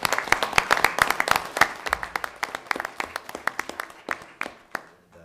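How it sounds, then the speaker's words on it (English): Audience applause at a school board of education meeting, honoring parents of dancers: distinct, fairly sparse claps from a modest group, loud at first and thinning toward the end, with no talk. "a round of applause for the parents here"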